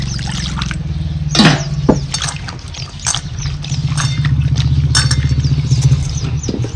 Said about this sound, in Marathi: ह्या मिरच्या ज्या आहेत आपल्याला ह्या धुवून घ्यायच्याच